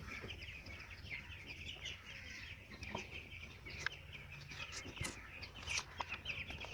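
Chickens on a poultry farm cluck and peep continuously at moderate distance, a dense flock chatter with scattered sharper chirps over a low background hum, with no one speaking.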